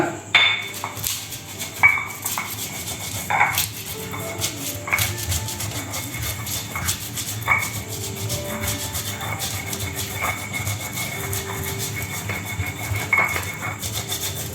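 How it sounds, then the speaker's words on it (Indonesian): Bird's eye chilies are ground with salt by hand into a smooth paste, a steady close scraping and rubbing with repeated clinks and knocks that runs without pause, and no one talking over it. "Ini kita giling halus sampai tercampur semuanya bersama garamnya"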